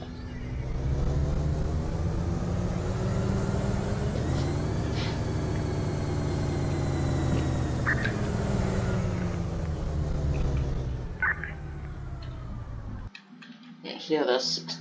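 A bus with a Bluebird Cummins-type diesel drivetrain in the Rigs of Rods driving simulator runs with a steady, loud engine drone and rising tones, then cuts out near the end, leaving brief sparse noises.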